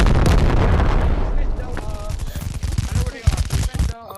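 Rocket launcher fire in the game Animal Company, a dense run of loud booming blasts and crackling bursts that gradually thin out toward the end, with voices mixed in.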